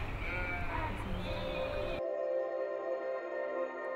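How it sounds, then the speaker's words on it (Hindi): A large herd of about 500 sheep and goats bleats on traditional herding routes in Himachal's Kangra valley. The overlapping bleats are dense for two seconds, then cut abruptly to a steady tonal background. "वो इन पारंपरिक रास्तों पर चलेंगे अपनी 500 भेड़ों और बकरियों के झुंड के साथ।"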